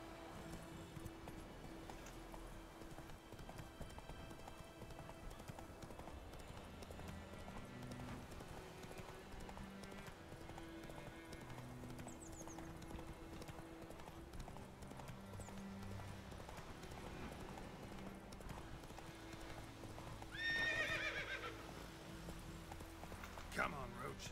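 Roach the horse trots in The Witcher 3, hooves clip-clopping in a steady rhythm throughout, with game music underneath and a brief louder swell near the end.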